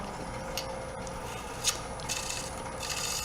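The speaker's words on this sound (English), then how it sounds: "it cuts much, much nicer now with that sharp tool" A freshly sharpened turning tool cuts wood spinning on a lathe, giving a steady close rasping hiss with brief louder scraping bursts throughout.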